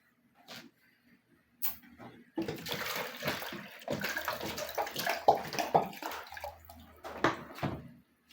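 Water poured into a pot to wash rice, a close splashing, sloshing stream that runs for several seconds after a few quiet knocks.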